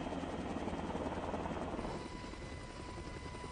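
A helicopter flies over the Sequoia forest in California during a raid on a marijuana grow, its steady rotor chop loud at first, then easing slightly as it moves off.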